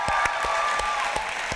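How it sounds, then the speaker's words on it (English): Audience applause at a political speaking event for a guest, a dense, steady wash of clapping with a few louder claps standing out, loud and continuous over the short stretch. "Can y'all give Stephanie Schriock a round of applause?"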